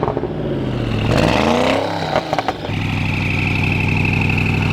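Koenigsegg Agera supercar engine revving hard, a loud rising wail that climbs and falls, then settles back into a steady idle with a few sharp blips, close by.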